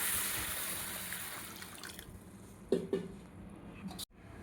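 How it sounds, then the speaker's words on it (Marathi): Wheat grains being washed in water: soft, quiet sloshing and trickling, with a couple of small splashes near the end. "आता हे गहू स्वच्छ धुवून घ्यायचे आहेत. आता हे गहू मी धुवून घेणार."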